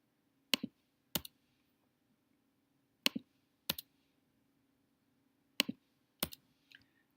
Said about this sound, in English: So I'm just clicking on those and pressing delete.